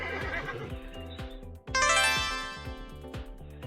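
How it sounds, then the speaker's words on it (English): A horse on a farm whinnies over a busy musical backing, one drawn-out neigh rising loud and bright midway and trailing off under the music. "that is Henry the horse."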